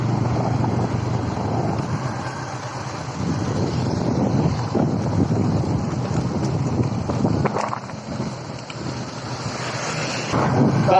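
Wind gusting through the mountain valleys on the road from Baglung to Jomsom, a steady loud roar buffeting the microphone for the whole stretch, with no voices over it.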